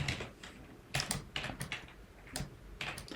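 Quiet keystrokes on a computer keyboard, typed in short irregular bursts of clicks with brief pauses between them, close and alone with no voices.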